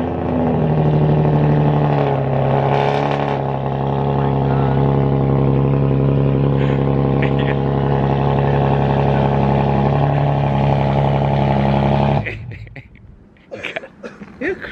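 A modified exhaust on an Infiniti G37 roars at a steady, loud idle-to-rev drone for about twelve seconds, then cuts off abruptly, leaving faint background noise and scattered knocks.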